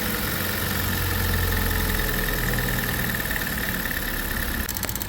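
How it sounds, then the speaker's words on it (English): A car engine idles steadily while warming up after earlier rough, chugging running, with a possible valve cover fault. It holds a continuous, even rumble close by with no talk over it. "we're going to let her run for a minute, get some heat in it"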